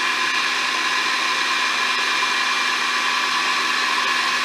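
A 12-year-old blender whizzes a raspberry dessert mixture until smooth, a steady, high motor whine that holds at an even level throughout with no talking.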